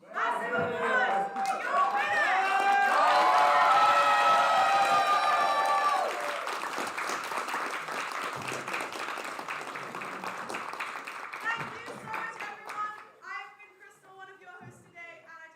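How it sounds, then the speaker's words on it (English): An audience at a Splatoon 3 LAN tournament grand final bursts into loud sustained applause and cheering, with whoops over the clapping, easing into scattered claps and chatter with voices talking near the end. "let's give one final massive applause"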